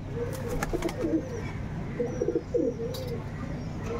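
KTM bloodline pigeons of original stock coo softly in two low, burbling phrases, with faint chirps from other birds in a steady background hum, with no voices.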